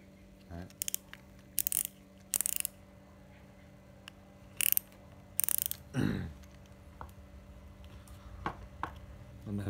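A fishing reel's drag being tightened, giving several short bursts of crisp clicking with pauses between them, close and fairly loud over a quiet steady hum.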